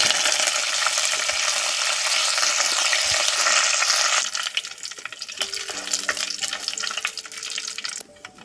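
Mustard seeds, a cut Byadagi chilli and curry leaves sizzle loudly in hot oil for a Kannada wild fig (attikayi) gravy tempering, a dense steady crackle that drops abruptly partway through to a quieter, uneven frying hiss.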